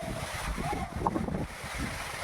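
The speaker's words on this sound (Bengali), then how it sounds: "খুব জোর বাতাস হচ্ছে" Strong wind gusting outdoors under a darkening, overcast sky before rain, a steady broadband roar with rising and falling gusts, close and loud against the microphone.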